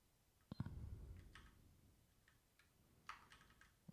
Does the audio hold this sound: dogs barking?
no